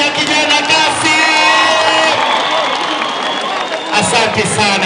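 A stadium crowd at a football club's homecoming cheers and applauds, a loud sustained roar with whoops and yells, while a voice speaks over it through a PA.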